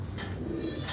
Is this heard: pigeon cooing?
yes